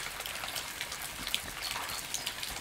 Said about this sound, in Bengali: অনেক বৃষ্টি হচ্ছে কিন্তু দেখতেছেন